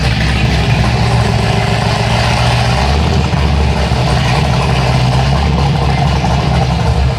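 A 2005-13 Corvette C6 engine runs loudly and steadily, a deep continuous rumble close by with a slight shift in tone midway, no talking.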